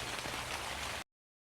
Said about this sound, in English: The rains began.